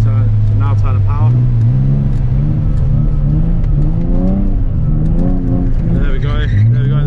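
A drift car's engine revving under throttle, a loud, droning note that climbs and steps through revs, with someone talking throughout over it.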